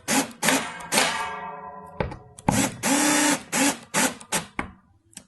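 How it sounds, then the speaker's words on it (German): A power screwdriver drives screws into a Sela CaSela snare cajon kit, several short whirring bursts close up, separated by brief pauses, with one longer burst that winds down. "Dann können wir die Schrauben dann in einer Reihe anziehen"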